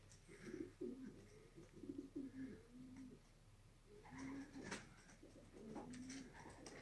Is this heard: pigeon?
yes